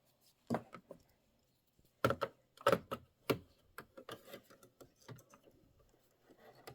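An embroidery machine stitches out the legs of a camel design in uneven bursts of light rapid ticking and tapping, with a few louder clusters and quieter patter between, close and fairly faint.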